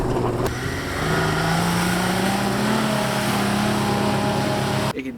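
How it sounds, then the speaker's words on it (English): A Ford Pinto car drifting, its engine droning loud and close with a steadily climbing pitch as it revs through the slide, cutting off abruptly near the end. "A Pinto can drift."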